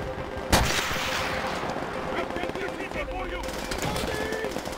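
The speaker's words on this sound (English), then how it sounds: "Where's the machine gun?" Gunfire in the World War II shooter Call of Duty: World at War, with a sharp loud shot near the start followed by a dense, continuous rattle of battle fire and distant blasts, and a voice speaking faintly underneath.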